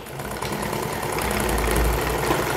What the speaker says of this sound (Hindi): ये मैं डबल सिलाई लगा रही हाँ।